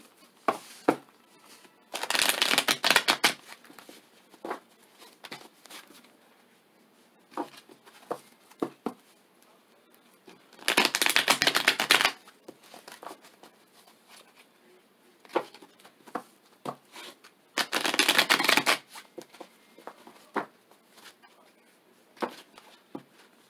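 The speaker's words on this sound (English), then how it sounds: "we're going to go ahead and shuffle your energy into the cards" Tarot cards shuffled in three separate bursts of riffling and flapping, each a second or two long, with soft shuffling and handling noises between them and no speech.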